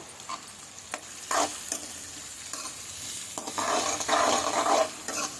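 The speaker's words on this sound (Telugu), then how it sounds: "సన్నగా తరిగి పెట్టుకున్న పచ్చి ఉల్లిపాయ ముక్కలు కూడా వేసేస్తున్నాను" Finely chopped raw onions sizzling in a hot pan for fried rice with green peas and capsicum, a dense crackling fry broken by repeated scraping stirs of a spoon, close and steady with no voices.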